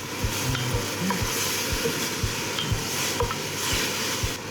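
Clams with salt and pepperoncino sizzle steadily in a pan as wine goes in, a dense continuous fry broken by a rhythmic series of low knocks from stirring, close and fairly loud with no talk.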